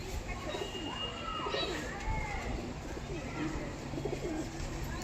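Quality pigeons at a sale coo in low, continuous murmurs under someone talking nearby, the birds steady and fairly close throughout.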